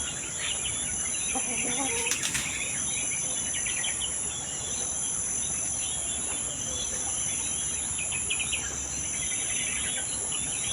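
A few soft clucks from a chicken come through a constant high drone of insects at night, faint and somewhat distant.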